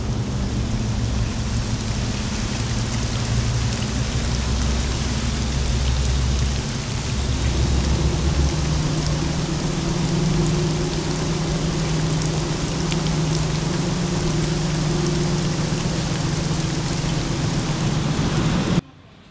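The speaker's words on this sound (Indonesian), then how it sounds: "rintik-rintik hujannya itu menenangkan suasana." Steady drizzling rain falls without pause, a dense, even patter close by with a low rumble beneath it, and no voices.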